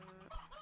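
A chicken clucks softly in the Slime Rancher 2 video game, one short muffled cluck with a low thump, faint and alone.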